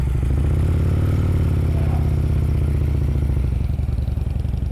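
A motorcycle rolling at slow speed during a riding skills practice session with the clutch pulled all the way in, a steady loud low engine idle throb close by, continuous with no revving, and no talk.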